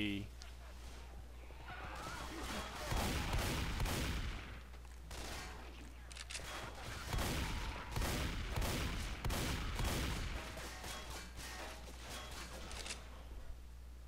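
Gunfire in Left 4 Dead 2 co-op at a zombie-filled mall: repeated clusters of shots ring out in rapid volleys between pauses, fairly close and loud, with players talking over parts of it.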